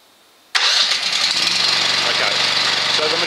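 A generator engine, started remotely by a PowerGuard ACP300 controller, cranks abruptly after a moment of quiet and settles straight into a loud, steady, close-up running drone.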